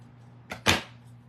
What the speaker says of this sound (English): I could do the snip. Remember, snip right in the center.